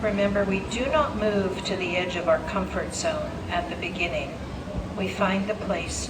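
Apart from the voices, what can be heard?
No everyday noises stand out.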